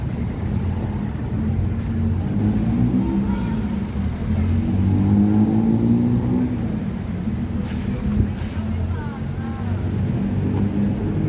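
Parade vehicles roll past in a Thai procession carrying panda figures toward Siam Paragon, a steady low engine rumble with slight revving, close by, with crowd noise and some talk over it.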